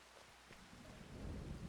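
Steady rain in Farming Simulator 25 on a dreary day, a soft continuous hiss with a low rumble that swells a little toward the end, heard alone without voices.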